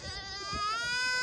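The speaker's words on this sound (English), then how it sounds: "It's like they're goats." A goat in the Wyoming mountains lets out a single drawn-out, wavering bleat that rises slightly in pitch, close and clear, over faint background noise.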